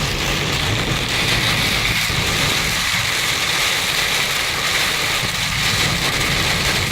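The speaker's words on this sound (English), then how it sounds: "I mean, it is just sheets of rain coming down, man" Heavy rain from a February winter storm hammers a car windshield in a dense, steady roar that is loud and close and continues unbroken throughout.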